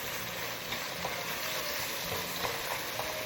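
Kimchi fried rice stirred in a hot pan as soy sauce caramelizes, giving a steady close sizzle and frying hiss with soft scraping strokes throughout.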